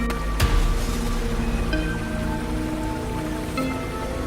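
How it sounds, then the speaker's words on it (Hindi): Heavy rain pours steadily through the night, a dense continuous hiss of drops on surfaces with one sharp louder splash near the start, no voices. "बारिश तेज होती जा रही है।"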